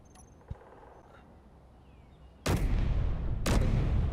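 An assault cannon custom turret fires in Space Engineers, two loud blasts about a second apart after a quiet stretch with a small click, each trailing into a sustained roar.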